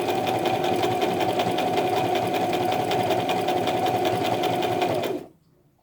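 A Brother LX3817 sewing machine sews a buttonhole, running at a steady, loud, rhythmic whir for about five seconds before stopping abruptly into near silence.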